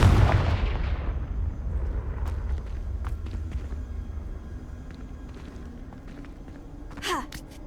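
A Confringo blasting curse in Hogwarts Legacy bursts with a loud booming explosion at the start, then rumbles and fades, with faint debris clicks and a brief whooshing magical flourish near the end.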